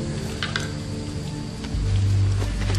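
Heavy rain pours down outside in a steady, dense hiss that grows slightly louder and heavier partway through, with no voices over it.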